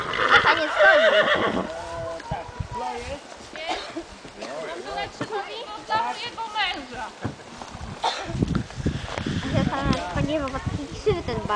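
Horses at a Hubertus fox hunt event whinny loudly near the start, and hooves clip-clop through the rest of the clip while people talk over it outdoors.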